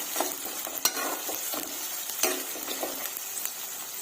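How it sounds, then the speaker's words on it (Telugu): Chopped medium-size onion frying in a pan until golden brown, a steady broadband sizzle with a few sharp scraping stirs, close and fairly loud, no voices. "ఇవి గోల్డెన్ బ్రౌన్ కలర్ వచ్చేంత వరకు ఫ్రై చేసుకుందాము."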